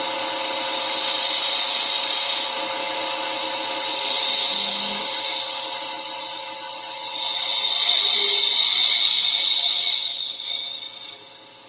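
A woodturning lathe cuts shavings from a spinning piece of wood, with a loud, harsh scraping hiss that comes in several sustained bursts and drops back to a quieter motor hum in the pauses, with no one talking.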